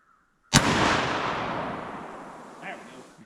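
A single loud, close rifle shot from an AK-47 or AR-15 cracks sharply and then booms away in a long fading echo outdoors.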